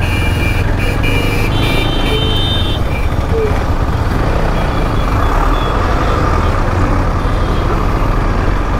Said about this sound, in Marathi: एवढं का ट्रॅफिक जाम झाली भाई.